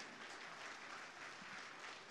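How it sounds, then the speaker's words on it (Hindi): Steady applause from a crowd at an anniversary celebration and mushaira (poetry gathering) fills the whole clip, a dense, even wash of clapping with no pauses. "मलिक अब्दुल्ला बिन अब्दुल अजीज़, मलिक सलमान, हम सऊदी भाइयों का खिराज तहसीन तालियों की गूंज में करते हैं"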